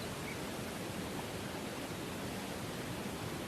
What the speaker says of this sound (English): we have a nice waterfall going on